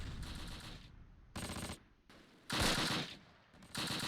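Mortar fire in the WWII strategy game Close Combat Panthers in the Fog: bursts of heavy, booming explosions in four loud blocks, with rumbling impacts and sharp cracks separated by short quieter gaps.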